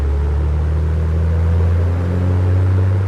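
The engine of an Aerostar twin-engine aircraft in Microsoft Flight Simulator 2024 powers up, a loud steady droning rumble with a low hum that slowly builds, with no one talking.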